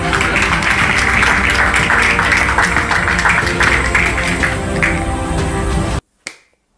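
A live studio audience applauds the host of a Congolese talk show, dense rapid clapping sustained for about six seconds, then cutting off abruptly with one faint stray clap.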